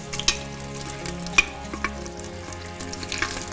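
Meat frying in a pan as the start of a couscous, a close crackling sizzle with scattered pops and stirring scrapes, no voices.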